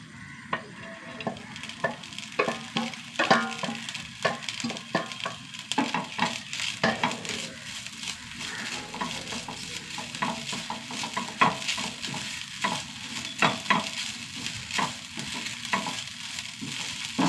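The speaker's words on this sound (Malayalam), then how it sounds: "ആദ്യം നമുക്ക് തേങ്ങ ഒന്ന് വറുത്തെടുക്കാം. ചെറിയൊരു മുറി തേങ്ങ കേട്ടോ." Small pieces of coconut roast in a pan over low heat with a continuous soft sizzle and repeated scraping stirs of a spoon against the metal, close and without talk.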